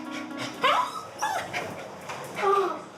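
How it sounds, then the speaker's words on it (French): A stressed dog whines in short, high, nasal whimpers, close by and repeating a few times over soft breathy panting. "Il halète, il tourne en rond,"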